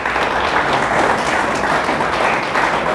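A church congregation gives a loud, continuous round of applause, thick and steady clapping from many hands close by, with no speech breaking through.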